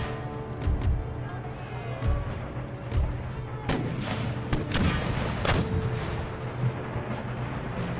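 Musket volleys between troops in Empire Total War, heard as repeated crackling gunfire and deep booming reports rolling over a constant battle din, with scattered shots near and far and faint voices underneath.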